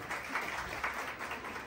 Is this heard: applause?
yes